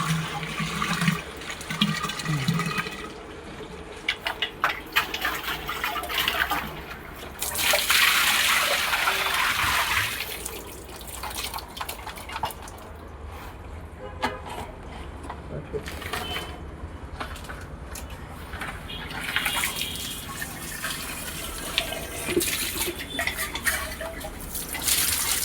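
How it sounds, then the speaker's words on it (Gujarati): Water rinses scale out of the tank of a Bajaj 10-litre electric geyser, a steady broadband gush and splash with clanks, and someone speaks over it now and then. "સર્વિસ કરીશું અને પાણીથી આપણે સાફ કરી નાખીશું"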